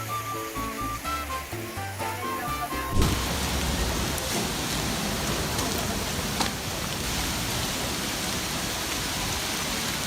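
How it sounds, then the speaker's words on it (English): Heavy rain pours down over a Queensland city, a dense, steady hiss of downpour that holds loud and continuous after a short burst of music, with no voices heard. "The relentless downpour makes the entire city feel like it's rehearsing for an outdoor action movie scene."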